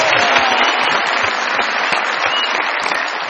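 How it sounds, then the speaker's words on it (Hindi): A studio audience on a comedy television show applauds a prize winner, with loud, dense, continuous clapping throughout and no talking over it. "बहुत सारी तालियों में आइए जी।"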